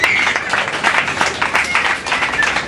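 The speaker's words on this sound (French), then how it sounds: "On peut acclamer le Seigneur." A church congregation bursts into loud, close, continuous applause to acclaim the Lord, with dense rapid clapping and a faint crowd murmur blended in.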